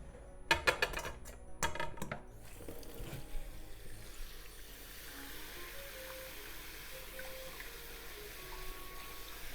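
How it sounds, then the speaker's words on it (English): Cooked cabbage drained and rinsed under cold water in a kitchen sink: a few sharp clattering knocks at first, then a steady rush of running tap water that continues alone. "let's drain and release in cold water to stop cooking."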